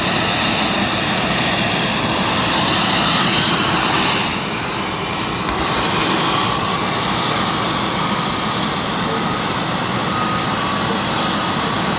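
DHL cargo aircraft engines at East Midlands Airport drone in a loud, steady roar and whine with a slight dip partway through, heard near and unbroken.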